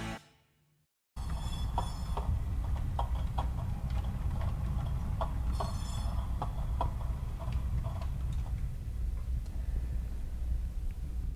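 An Athearn Genesis CB&Q model caboose rolls steadily along a model railroad track, producing a continuous low rumble with a regular series of light rhythmic clicks as the wheels cross rail joints, close and sustained after a brief silent start.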